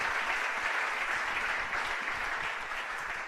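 A church congregation applauds in celebration during a worship service, a steady, dense wash of clapping from many hands that continues throughout and eases slightly toward the end.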